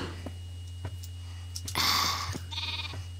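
A cow in the video game Minecraft gives a short, nasal, bleating moo over a constant electrical hum, with faint clicks around it.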